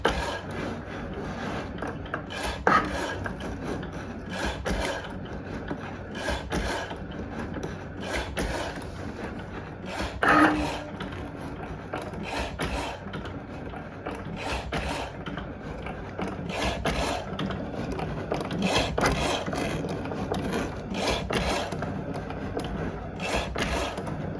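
Cricut Maker cutting machine running with its blade, a continuous mechanical whir with rhythmic rubbing and ratcheting pulses, moderately loud and steady.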